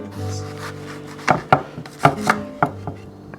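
A knife cuts through half a cantaloupe on a board, rolling around the inside of the fruit with a handful of close, distinct wet thuds and scrapes, spaced irregularly over a quiet background.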